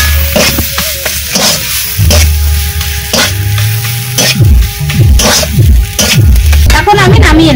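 Banana flower filling stirred with roasted coriander and cumin powder in a pan, with loud close scraping and clatter of the spatula over a sizzle, while a voice hums or talks intermittently in the background.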